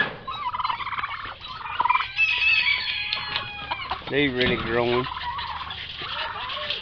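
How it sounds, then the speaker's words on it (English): Turkeys gobble in a rattling, repeated chorus close by, with other fowl clucking around them and someone speaking briefly over the birds. "Here's our turkeys."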